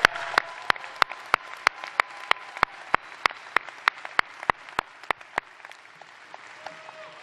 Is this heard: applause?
yes